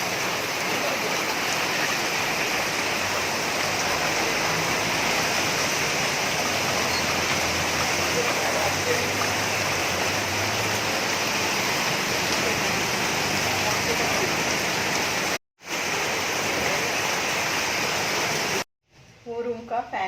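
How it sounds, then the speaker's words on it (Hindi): Heavy rain pours down steadily in a dense, continuous roar, loud and close throughout, with two brief dropouts near the end. "बहुत जोरों की बारिश लगी, सोचा आपको दिखा दूँ।"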